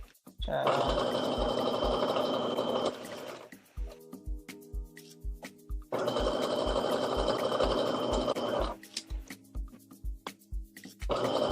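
A sewing machine stitches a sweatshirt bow in two long, steady bursts of a few seconds each, close and loud. Quieter handling noises and faint tonal sounds fill the pause between the bursts.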